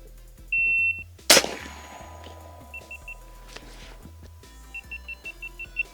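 A 9mm Ranch air rifle fires a single loud, sharp shot at about 1.3 seconds, outdoors toward a target 50 yards away. Short electronic beeps come before and after the shot, and the last ones repeat in a quick series.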